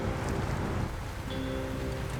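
Steady rain falls across a muddy Wisconsin logging map in SnowRunner, a dense continuous hiss close by with a faint tonal hum rising near the end and no voices.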